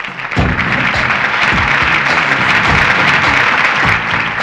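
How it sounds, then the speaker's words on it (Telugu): An audience at a college prize-giving breaks into loud, dense clapping that starts abruptly and holds steady as a close wash of applause, with no talk over it. "క్లాప్స్!"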